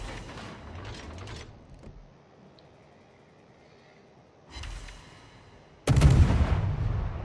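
Heavy naval guns firing in the World of Warships battle game, a loud booming salvo at the start, a second burst midway, then a big sustained blast rumbling to the end, with quieter gaps between.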